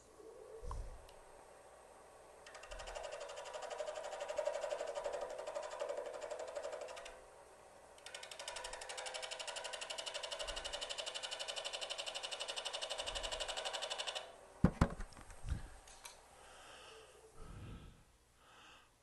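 Wood spinning on a lathe under a detail gouge with a Marxley grind, giving long steady scraping whirs broken by short pauses, with faint motor hum and a few sharp knocks near the end.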